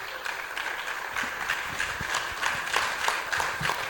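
Steady audience applause fills a room at a medical and dental alumni gathering after a speaker's talk, dense overlapping claps throughout with no voices.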